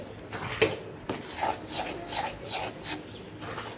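Gram flour (besan) with ghee being stirred in a pan for Mysore pak, a soft rhythmic scraping and rubbing of a spoon against the pan, repeated strokes about every half second, close and fairly quiet with no talking.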